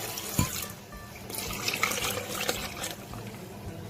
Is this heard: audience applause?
no